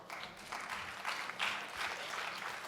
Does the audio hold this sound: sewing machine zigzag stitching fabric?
no